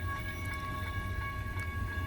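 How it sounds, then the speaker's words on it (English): A train runs on railway tracks with a steady, close rumble and a droning mechanical hum, the wheels ticking faintly throughout, and no voices. "I don't even know if you can fucking hear me with all the fucking train tracks going."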